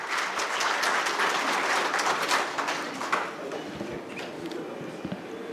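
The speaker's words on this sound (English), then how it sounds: "Can we have, once again, a huge round of applause for Professor Kano" Dense, loud audience applause fills a hall at a quality award launching ceremony, a steady sustained clapping that eases slightly toward the end.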